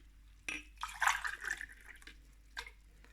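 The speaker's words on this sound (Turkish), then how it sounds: "8 su bardağı su ilave ettik" Water being poured by the glassful into a pan while making a grape molasses fruit leather, heard as a faint close splash and trickle after a soft clunk, then a brief second splash, otherwise quiet.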